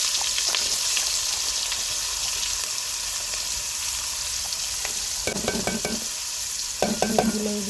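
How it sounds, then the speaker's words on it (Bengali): Chopped onions dropped into hot oil in a pan used for frying prawns, sizzling loudly and steadily throughout, with spoon scrapes and metallic clinks from stirring toward the end. "এখন দিয়ে দিব পেঁয়াজ কুচি।"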